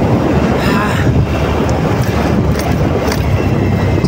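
Strong wind buffets the microphone during a ride along a long, flat straight road in the Dooars, West Bengal, a loud, constant rushing roar with gusty surges and no clear talk.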